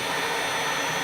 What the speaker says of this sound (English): I'm going to light it with this Luft lighter